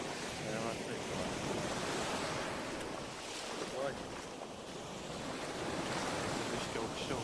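Sea waves wash onto Haeundae beach in Busan, a soft continuous surf roar mixed with wind buffeting the microphone, with gentle swells rising and fading.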